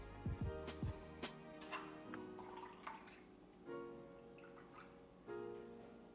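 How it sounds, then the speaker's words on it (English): Pineapple juice drains from a can into cherry juice in a kitchen, heard as quiet dribbles and drips in uneven bursts, close by. "now I'm going to drain the pineapple juice into the cherry juice"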